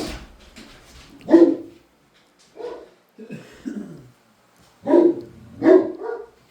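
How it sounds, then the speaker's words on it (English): A dog gives several loud, close barks in two bursts, with softer shorter yelps between them and no one talking. "Hey, you kiss your mother with that bark."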